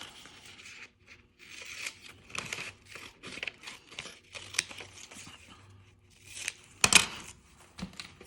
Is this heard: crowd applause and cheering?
no